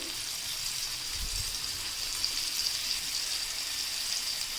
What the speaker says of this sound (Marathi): आता आपण हे तेलामध्ये सोडूयात तिन्ही बागड्या आपण आता एकदमच सोडून घेणार आहोत तेलामध्ये